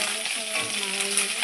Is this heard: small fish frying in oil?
yes